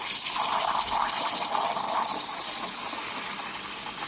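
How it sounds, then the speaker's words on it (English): An espresso machine's steam wand steams milk to a silky microfoam. A loud, steady, close hiss holds without a break and carries a faint gurgling ripple underneath. "That's the correct way of steaming up the milk."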